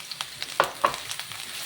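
Garlic dropped into a hot pan for a squash and long-bean coconut stew, quiet frying hiss with a few sharp stirring clinks and pops, close and brief.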